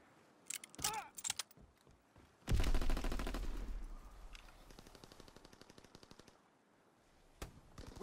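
Machine gun fire in a Call of Duty video game, a few separate shots followed by a loud sustained automatic burst that thins into a rapid rattling string and fades, with one more sharp shot near the end.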